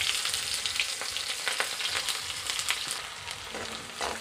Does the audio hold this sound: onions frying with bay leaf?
yes